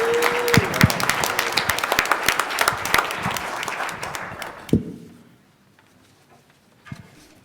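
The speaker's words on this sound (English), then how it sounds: "You can clap now" An audience at a Hanukkah concert claps to welcome the cantor, a dense, lively round of applause lasting several seconds before fading to quiet, followed by a brief thump.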